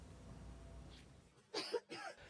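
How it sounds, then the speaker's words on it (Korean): A man coughs twice in quick succession, harsh and close, inside a subway train after a stretch of low background rumble. "한 남성이 지하철 안에서 심하게 기침을 합니다."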